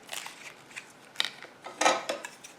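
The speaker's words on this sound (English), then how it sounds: "then you can take and cut the ribbon on this side" Scissors snipping through ribbon on a crocheted blanket border, a few short, crisp crunching cuts spaced unevenly, close and fairly quiet.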